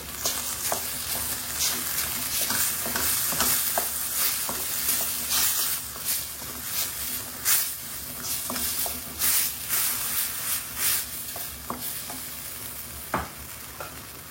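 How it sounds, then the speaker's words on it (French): Concentrated tomato sauce thinned with a little water hitting a hot pan, giving a loud continuous sizzle broken by repeated sharp scrapes and taps of stirring. "On va rajouter notre sauce tomate concentrée sur laquelle on a rajouté un peu d'eau pour lui lier un petit peu."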